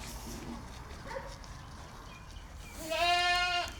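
A first-freshening Alpine French dairy goat doe gives one loud, close, drawn-out bleat near the end, after a stretch of quiet barn background noise.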